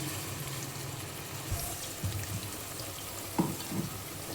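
A finely ground onion and tomato paste drops into a pan for a meat curry, bringing quiet frying with a few soft thuds and scraping stirs. No one speaks.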